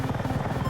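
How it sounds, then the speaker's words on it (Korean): A helicopter in Battlefield 6 drones nearby with a loud, rapid rotor thump that pulses evenly through the short moment, with no talk over it. "오, 오 헬기 헬기."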